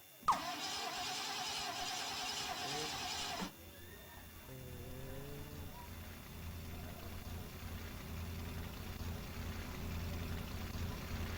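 A car engine in Scribblenauts Unlimited cranks and catches with a loud burst, then settles into a steady low idle that keeps running to the end, alone without talk.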